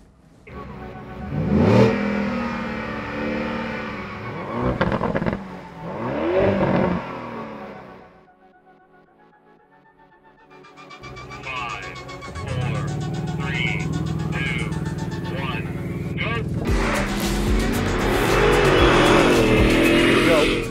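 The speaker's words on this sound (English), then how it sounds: "Then I put it in drive and I accelerate down the strip" A car engine revs hard and accelerates down a drag strip, rising in pitch through shifts, then a strong whining surge builds; loud and close, with talk over parts.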